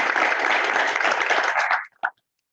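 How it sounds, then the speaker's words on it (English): Audience applause at a university awards ceremony, a dense steady wash of many hands clapping that fades out near the end, followed by one brief final clap. "let's please have a round of applause for"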